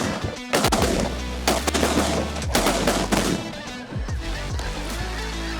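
Shotguns fire a rapid, uneven volley at snow geese during a waterfowl hunt in Saskatchewan, Canada, several loud close blasts crowding the first four seconds, then echoing off into open air.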